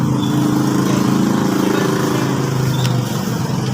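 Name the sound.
Raider J 115 motorcycle engine starting and running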